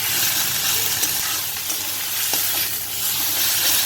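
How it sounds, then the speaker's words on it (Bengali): Ground cumin and turmeric fry in hot oil for a prawn and pointed gourd curry, giving a loud, continuous close sizzle with faint stirring scrapes throughout. "মশলাটা আমার ভালো করে কষানো হয়ে গেছে"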